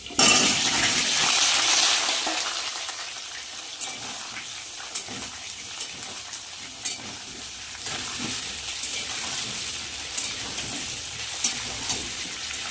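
Cut potatoes frying in oil with whole cumin, dry red chilli and bay leaf, a loud burst of sizzling at first that settles into a steady hiss with scattered spoon clicks and stirring.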